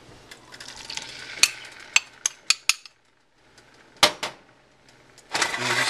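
Berries soaked in spiced rum with a teaspoon of butter hit a hot pan, giving a soft sizzle broken by several sharp clinks and scrapes of a utensil stirring against the pan, with a louder burst of frying near the end.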